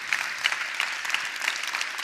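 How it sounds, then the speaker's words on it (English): Applause from a conference audience at a Web3 summit in a large hall, a continuous even patter of many hands with sharper individual claps popping out, moderate in level and steady throughout without speech. "So please give yourselves a round of applause."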